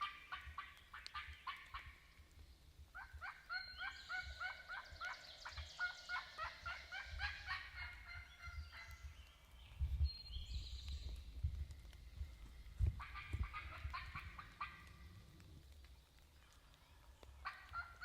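Wild turkey gobbles across a hollow on a rainy day, repeated rattling gobbles coming in bursts from a distance, with soft rustling and movement nearby.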